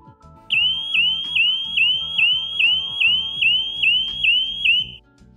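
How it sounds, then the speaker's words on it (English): A dock lifeguard system at a lake dock sounds its alarm, a loud repeating electronic chirp pulsing about twice a second for several seconds before stopping, alone without talk. "both started alarming immediately"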